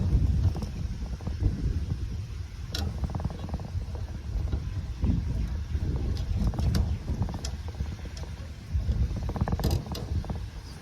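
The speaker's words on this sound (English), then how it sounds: "hope the wind isn't bothering you too much" Wind blows in a garden outdoors, buffeting the microphone as a continuous low rumble, with scattered clicks and light rustling throughout.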